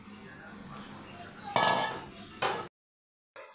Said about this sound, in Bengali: এবার আমরা ঢাকনাটা চাপা দিয়ে দেব